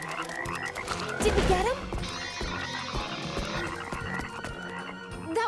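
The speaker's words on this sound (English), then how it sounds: "Froggies." Frogs croaking in a Monster High cartoon, rough ribbiting croaks mixed with music and effects, while a character speaks over the scene.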